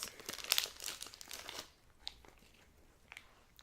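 Close crinkling and crackling of plastic packaging being opened, busy at first, then a few softer rustles and taps.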